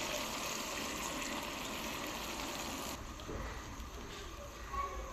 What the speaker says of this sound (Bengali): এই পর্যায়ে অ্যাড করব কিছুটা পানি।